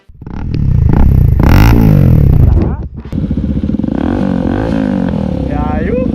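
A single-cylinder Kawasaki Dominar 400 or Cafe 400 motorcycle engine revs loudly and close, dips briefly near the middle, then settles back to a steady throbbing idle, with a voice talking over it.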